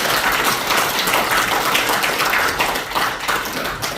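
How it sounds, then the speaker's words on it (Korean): An audience at a general assembly of retired generals in Korea applauds with a steady, dense wash of many hands clapping for several seconds, close and fairly loud, with no talking. "우리 예비역 장군님들께 감사와 경의의 박수를 부탁드리겠습니다"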